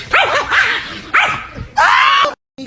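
An agitated dog gives a burst of loud, close barks and yips, four harsh barks in quick succession with a short whine between, cut off abruptly at the end.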